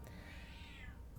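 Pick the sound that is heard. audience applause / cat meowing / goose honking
cat meowing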